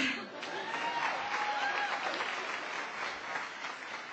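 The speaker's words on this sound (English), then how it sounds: "That deserves applause." An audience at a ceremony at IU claps steadily for about four seconds, a dense, even wash of applause with a faint voice mixed in.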